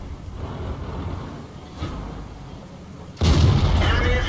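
A tank cannon firing in the video game World of Tanks, with an FCM 50t tank in play; a sharp, loud boom bursts out near the end over ongoing battle rumble, following a fainter earlier thud.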